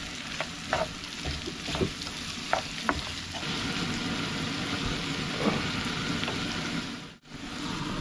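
Chopped tomato, onion and sliced green chili frying and being stirred in a pan for sour dal, a steady close sizzle with a few sharp clinks of the spoon early on.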